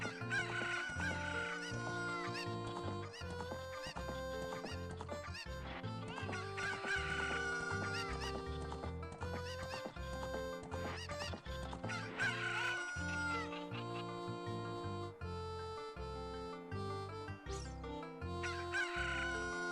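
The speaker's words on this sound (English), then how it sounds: "Chickens will follow you. They will attack you. They will try to swarm you." Chickens cluck and crow in The Legend of Zelda: Ocarina of Time, bright repeated fowl calls layered over continuous game music.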